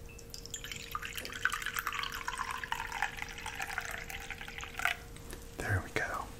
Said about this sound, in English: I'll just pour you a cup right here.